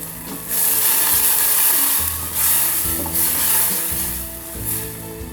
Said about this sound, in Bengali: মশলাটাকে কষিয়ে নিতে হবে ভালো মতো